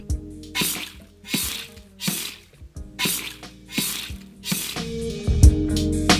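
Layered flesh impact effects for a game, a series of about seven wet, squishy thuds with splattery crunch, each hit followed by a short decay, spaced roughly a second apart and heard alone.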